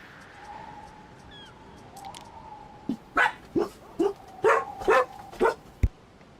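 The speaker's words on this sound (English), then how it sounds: "Apologies for the dogs keep going off because they're idiots." Dogs bark in a run of about eight sharp, fairly close barks in the second half, preceded by quieter whines and yips. A faint tonal hum sits underneath.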